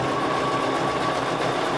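Sewing machine running steadily while stitching quilt binding, a continuous close motor hum and rapid needle chatter with no pauses.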